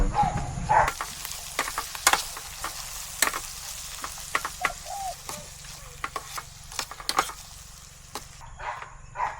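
Corned beef is sautéed in a pan for breakfast at a campsite, with a continuous sizzle and repeated scraping, stirring clinks of a utensil against the pan, heard up close with no speech.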